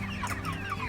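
Cornish Cross meat chickens, about two months old and near butchering weight, cluck close by in a short burst of soft, overlapping calls over a low steady hum.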